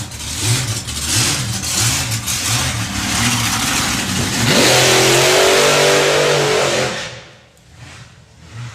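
A drag racing car at the Ford Show 2021 roars past a tower, its engine note climbing loudly as it accelerates through the gears, then the roar drops away quickly into a quieter background.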